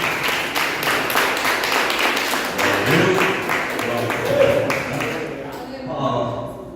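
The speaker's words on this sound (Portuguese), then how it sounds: "Recebe o nosso pastor com as palmas para o Senhor Jesus" Church congregation applauding to welcome their pastor, a dense steady wash of many hands clapping that fills the room and tapers off near the end, with some voices mixed in.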